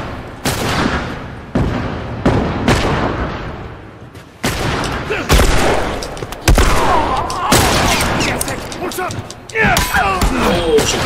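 Gunfire in a video game shootout: repeated sharp shot bursts and heavy booming volleys, loud and close, coming in clusters separated by brief pauses, with occasional player talk mixed in.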